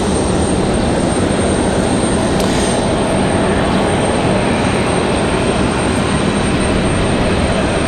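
A Republic Airways airliner arriving at Raleigh-Durham from Washington Reagan produces a steady, loud, broadband engine roar that holds constant throughout, with no voices present.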